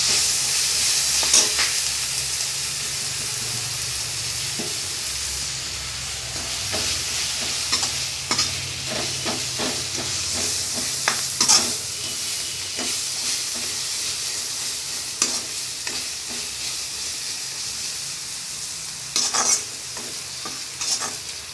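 Chopped beans stirred in a hot pan with chili, turmeric and pepper, a steady sizzle and hiss of frying broken by repeated sharp scrapes and clinks of the spoon against the pan, close and fairly loud.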